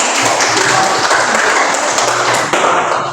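Classroom applause for a student discussion group during a mathematics lesson, a loud dense burst of many hands clapping together that carries on steadily for a few seconds.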